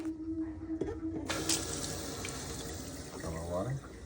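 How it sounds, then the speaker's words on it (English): Water pours steadily into a container of baking soda close by, starting after a brief quiet moment and running continuously to the end. "I'm gonna drop some water in there."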